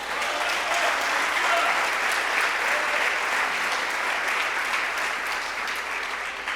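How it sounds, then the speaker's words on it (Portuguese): A church congregation claps steadily for several seconds, a dense, even wash of applause filling the room with no voices rising above it. "Aplauda o Senhor Jesus."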